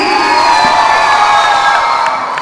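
A large audience at a Tricolour stage event in 2021 roars with sustained cheering, whoops and clapping, loud and close throughout.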